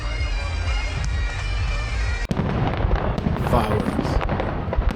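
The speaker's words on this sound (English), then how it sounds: "Fireworks." Easter fireworks in Bendigo crackle and pop in a dense, continuous barrage after a sudden burst, with crowd noise and voices mixed underneath.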